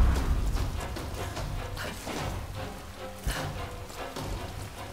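Rain pours steadily in the Tomb Raider video game amid water and fire in a burning city, a continuous hissing patter with scattered louder splashes and no voices.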